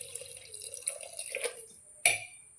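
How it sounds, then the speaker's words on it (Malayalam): Plain tap water is poured over gooseberries in a container, giving faint, close trickling and scattered drips with a sharper splash near the end, no voices heard. "വെറുതെ വെള്ളം ഒഴിച്ചിട്ടാൽ മതി"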